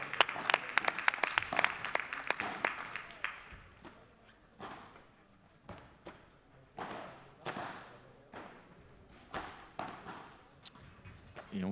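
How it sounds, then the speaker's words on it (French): Audience applause fills a padel tournament venue at player introductions, loud sustained clapping at first that thins into scattered bursts and pauses, then swells again in several shorter rounds. "Les applaudissements pour Javier Martinez."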